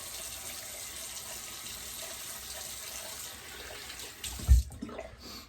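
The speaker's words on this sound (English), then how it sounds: "Just like this cold water rinse." Cold water runs steadily from a bathroom tap as a rinse during a shave, a close, even hiss throughout, with a brief louder splash near the end before it cuts away.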